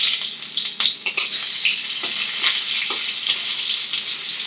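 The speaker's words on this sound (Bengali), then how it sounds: "এবার পেঁয়াজ কুচি দিয়ে দিচ্ছি" Chopped onion sizzles loudly in hot oil with bay leaves as the base for a prawn curry, giving a dense, continuous hiss close up, broken by a few soft clicks of stirring.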